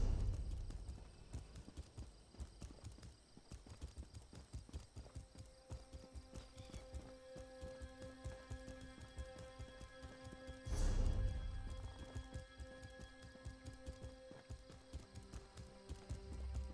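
A horse walks in Elder Scrolls Online, its hooves clopping in a steady, even rhythm close by, with a brief louder surge midway and faint tonal game sounds underneath.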